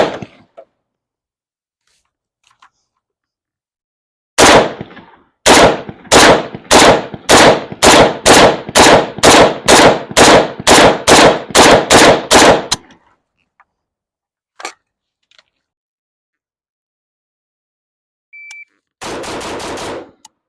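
Rapid bursts of fire from an AK-pattern rifle chambered in 300 Blackout: about fifteen sharp, evenly spaced shots in a loud string, a lone faint crack later, then a brief dense burst at the end.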